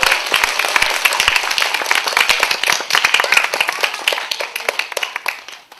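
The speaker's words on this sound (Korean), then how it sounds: "여러분 이제 박수 치셔야 됩니다" Scattered, uneven hand clapping from an audience at a public radio broadcast lecture, individual claps distinct and fairly close, continuing for several seconds and thinning out toward the end.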